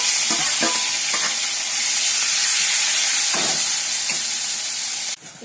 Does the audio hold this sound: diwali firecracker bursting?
no